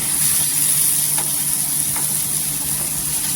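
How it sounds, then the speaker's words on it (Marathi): Homemade masala being sautéed in oil for a potato curry, a close, steady sizzle and crackle with a couple of faint stirring clicks, continuous throughout and free of speech. "मसाला छान असं तेलावर परतून घ्यायचं"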